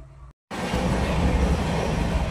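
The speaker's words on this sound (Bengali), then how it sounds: "গাড়ি যাচ্ছে ট্রেন" A train rolls past close by with a loud, steady, broadband rumble and rattle that fills the clip after a brief moment of near silence.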